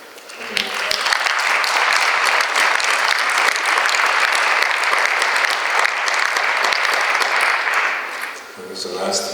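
Audience applause at a film conference, a loud, sustained roar of clapping that swells quickly and holds for about eight seconds before fading, with brief talk at the edges.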